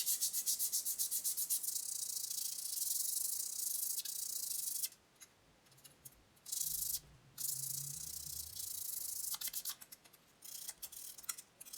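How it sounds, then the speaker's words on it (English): A small stained wooden cross for a necklace rubbed by hand with 600 grit sandpaper, close rapid scratchy strokes that stop and restart a few times, with faint handling knocks. "Here, I'm also using 600 grit sandpaper."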